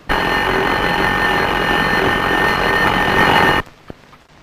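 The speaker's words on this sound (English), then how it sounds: "His alarm clock never seems to work too well. It only goes off once every morning." An alarm clock rings loudly and continuously for about three and a half seconds, then cuts off abruptly, followed by a faint click in a quiet room.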